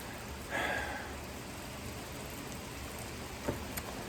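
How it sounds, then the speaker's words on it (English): Rain falling outdoors, a soft steady hiss at low level with a brief louder rustle near the start and a couple of faint drips or knocks later. "it's raining and I am soaked."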